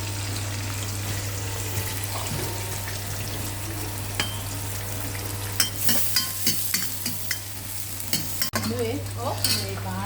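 Quail frying in a pan for a spicy village-style masala, with steady sizzling under a constant low hum and intermittent scrapes and clicks of stirring growing busier toward the end.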